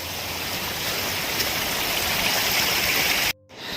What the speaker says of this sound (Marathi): धबधब्यांचा आवाज होता आपल्याला ऐकायला वरती धबधबा आहे इथं खाली पण धबधबे आहेत